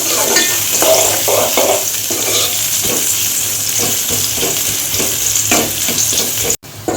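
Chopped onions sizzle loudly in hot oil in a pan for a ridge gourd and dried shrimp curry, with steady frying hiss and repeated scraping stirs of a spatula throughout, close and without talk.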